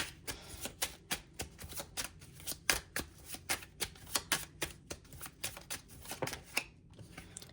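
A deck of cards being shuffled and drawn during a card reading, heard as a steady run of crisp, close snapping flicks at a quick, fairly even rhythm with no talking over them.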